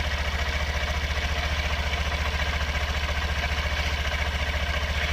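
A warmed-up Honda CB125F motorcycle idles high and steady close by, a fast, even low-pitched pulsing with no talk.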